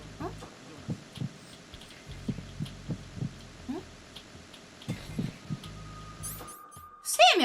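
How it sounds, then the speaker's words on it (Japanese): Slow heartbeat from the video game Metal Gear Solid 2, low soft thumps spaced well apart under game ambience, with a few short electronic beeps at the end. "すっごい心音遅いんだけど、この女の子"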